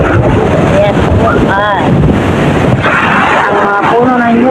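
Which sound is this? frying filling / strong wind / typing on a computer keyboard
strong wind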